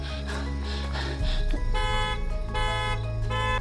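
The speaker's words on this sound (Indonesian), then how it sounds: "mengalihkan perhatian pembunuh itu dengan menyalakan alarm mobil" Car alarm blaring in the 2016 horror film Hush, a loud, steady electronic tone that shifts pattern partway through over a low engine-like rumble.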